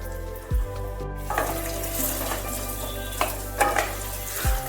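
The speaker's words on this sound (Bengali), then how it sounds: "তেল গরম হয়ে গেলে এই রেসিপির জন্য প্রয়োজন মতন আলু ভেজে নিতে হবে।" Long-cut potato pieces fry in hot mustard oil, a close, steady sizzle punctuated by a few sharp clinks and scrapes as a utensil stirs the pan.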